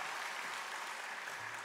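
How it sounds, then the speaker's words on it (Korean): A church congregation applauds a children's team at a harvest thanksgiving service, a steady, even patter of clapping from many hands, fairly soft and at a distance. "우리 어하나 팀에게 한 번 더 박수 쳐주세요"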